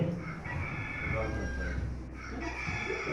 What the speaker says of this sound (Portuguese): É o galo de Pedro que está cantando